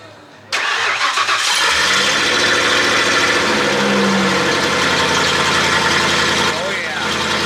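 A car engine at an outdoor car show cranks and catches after a short quiet moment, then settles into a loud, close, steady rumbling idle that runs to the end, with people speaking faintly underneath.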